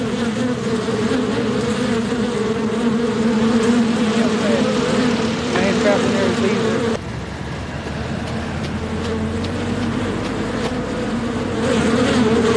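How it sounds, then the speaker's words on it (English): A huge swarm of bees buzzes loudly and close by at a roadside crash scene with a trapped truck driver, a continuous dense droning hum that holds steady with no speech. "I didn't even notice the bees were on me until they started stinging."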